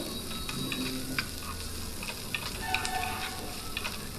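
Onion and ginger pieces frying in hot oil in a pan for dosa, a steady close crackling sizzle throughout with small pops and stirring scrapes, no talking.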